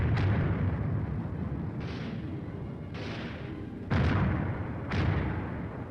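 A 4.2-inch mortar platoon fires a string of heavy blasts, about five booming reports at irregular intervals over a continuous rumble, loud and fairly distant, with no voices.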